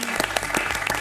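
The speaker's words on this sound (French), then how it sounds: "On va applaudir Frédéric qui a fait un super match." Brief burst of audience clapping for a player after a closely fought match at a French game show, a short, lively patter of hands under a faint voice.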